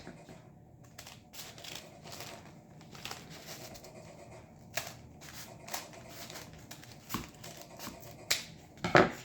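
A paper end is cut off a book. Irregular crisp snips and clicks sound close by, getting sharper and louder toward the end over quiet background.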